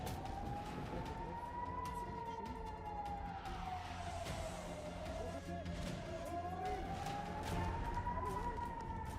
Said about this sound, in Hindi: अफरा तफरी और सायरनों की गूंज